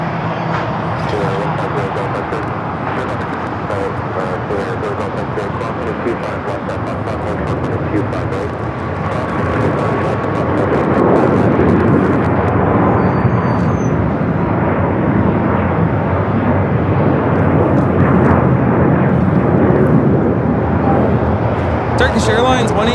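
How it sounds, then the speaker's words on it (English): A Turkish Airlines Airbus A350-900 takes off from LAX for Istanbul with a broad, steady jet roar that swells midway and holds, while people talk over it. "Turkish Airlines 180 taking off to Istanbul on the A350-900"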